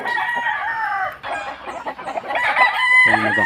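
Caged chickens and roosters at a poultry farm, a rooster crowing loudly up close among clucking hens, the calls overlapping in a dense, lively chorus.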